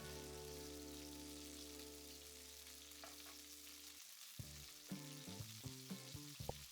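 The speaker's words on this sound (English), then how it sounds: "I know we're stir frying, but for this meat part, we wanna let that bottom caramelize." Beef browning in a hot stir-fry pan for lo mein, a steady close sizzle with a faint hum underneath and a few small crackles toward the end.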